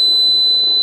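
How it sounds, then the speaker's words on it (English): A steady electronic beep from the ignition timing indicator on a Saito FG-60 R3 gasoline model aircraft engine with an adjustable magnet ring, sounding as one continuous close tone held through the moment. "So every time you could hear the beep"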